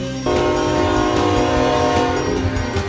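A train horn blares loudly and steadily over the rumble of a passing train near the Khun Tan railway tunnel in northern Thailand, sustained tones holding throughout.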